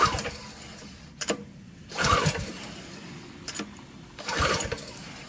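A Husqvarna 3200 gas power washer engine is pull-started on full choke and full throttle: two pairs of sharp cord yanks, each followed by a brief sputtering burst that fails to catch, close and loud.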